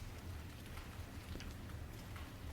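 Rain sweeps across rice paddies in Vietnam, a faint, steady hiss of falling drops with low rumble underneath, continuous and distant-sounding with no voices.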